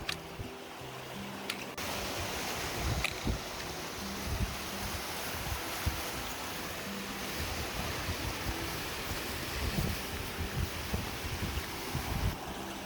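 A fast-flowing river rushes past at a crossing point beyond the Arctic Circle, a steady broad roar of water mixed with wind buffeting the microphone, with no voices.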